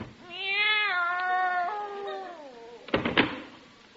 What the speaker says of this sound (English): There's nothing in there but a cat.